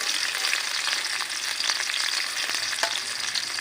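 Chopped onion and tomato frying in white oil in a hot karahi, a dense, loud, steady sizzle with occasional light crackles and stirring scrapes, close by.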